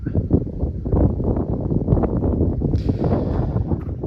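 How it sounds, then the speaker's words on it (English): Wind buffeting a microphone outdoors on a bitter cold day in southern Sweden, a continuous loud rumbling roar with gusty surges and no pauses. "it's windy."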